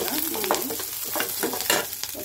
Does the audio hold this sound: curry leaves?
yes